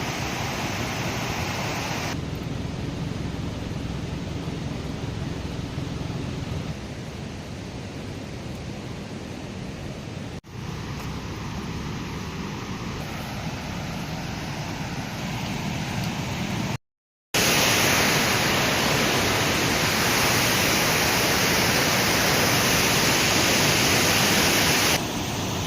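A strong river current rushes in a steady, dense, hissing roar that fills the whole stretch without letup, briefly cut off near the end before resuming just as loud.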